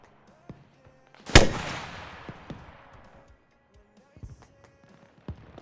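In Arma Reforger, a rocket launcher fires with one sharp, loud blast whose rumble trails off over a couple of seconds, followed by scattered faint distant pops and thuds.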